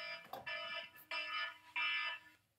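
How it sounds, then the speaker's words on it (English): An alarm sounds in short repeated electronic beeping bursts, a bright buzzing tone pulsing in quick groups over about two seconds, moderately quiet and with no talking. "There's my alarm."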